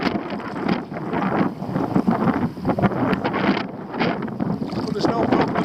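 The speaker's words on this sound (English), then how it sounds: "this is obviously today the windy end of the lake" Gusty wind blows over Bala Lake in North Wales, rumbling across the microphone in uneven surges beside a boat on the water, with a person talking faintly beneath.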